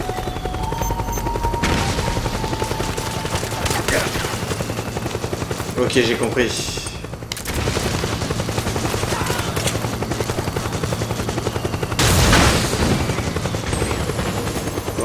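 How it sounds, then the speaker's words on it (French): Enemy helicopter rotor chopping alongside bursts of gunfire in the Metal Gear Solid 4 video game, a steady loud drone with louder blasts near the middle and late, while someone speaks briefly over it. "Sérieusement, il y a encore un hélico ennemi là."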